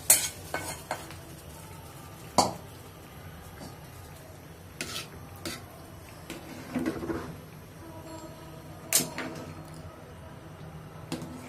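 Pithuli curry with onion and garam masala stirred in a pot, with a few sharp spoon-on-pan scrapes and clinks over a soft steady sizzle, fairly quiet and close.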